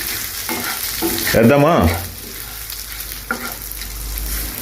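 Fenugreek seeds and urad dal frying in a little oil over low heat while the pan is stirred, a steady close sizzle with stirring strokes, and a voice briefly speaking over it.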